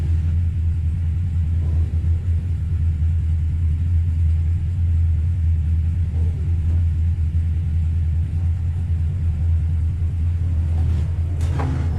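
Race cars run in a pack behind the pace car at North Wilkesboro, a steady loud low engine rumble that holds without change and with no talk.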